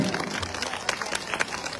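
Crowd applause at a Thai stage ceremony as a garland award is presented, a steady moderate patter of many hands with occasional sharper claps, mixed with faint background voices.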